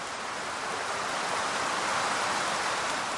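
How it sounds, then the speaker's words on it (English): A sudden outdoor downpour on a sunny coastal site produces a dense, even hiss of steady rain. It sounds continuous and close, with no voices. "It's just started to rain"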